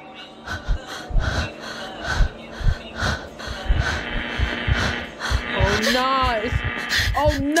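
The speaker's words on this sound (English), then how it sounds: "Now the heartbeat is crazy." A fast, pounding heartbeat in a Scooby-Doo video game thumps steadily in the low end, layered with game music, a hum and wheezy breathing, with whooping tonal swoops near the end.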